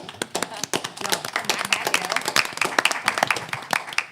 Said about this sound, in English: I will give you a round of applause.